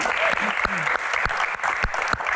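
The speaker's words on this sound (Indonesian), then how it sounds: "Tepuk tangan dulu dong." An audience claps loudly and continuously, a dense wash of applause filling the whole stretch.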